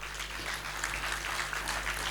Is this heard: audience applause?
yes